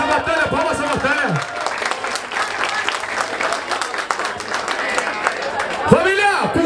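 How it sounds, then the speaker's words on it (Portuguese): A crowd cheers and applauds at a hip hop rap battle in Caraguatatuba, with dense clapping, shouting and whistles, and an MC's amplified voice speaking over the noise at the start and end. "Palmas a batalha, palmas a batalha"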